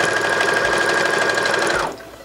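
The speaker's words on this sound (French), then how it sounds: "Et je vais venir coudre dans la même couture qu'il y a déjà sur le piping." Sewing machine stitching piping along a pouf seam, a fast steady mechanical whirr heard close and alone, stopping sharply just before the end.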